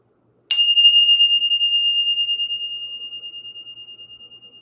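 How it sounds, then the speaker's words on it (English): A single bell struck to clear the energy at the start of a spiritual session rings out with one sharp strike, then a clear, pure tone that sustains and slowly fades over several seconds, alone with no talk. "We're going to go ahead and ring the bell."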